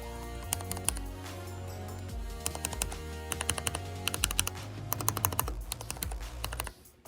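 Keystrokes on a handmade macropad built without a PCB or diodes, fitted with lubed mechanical switches, clack in quick irregular bursts over a steady low background hum, close and moderately loud, pausing briefly between runs.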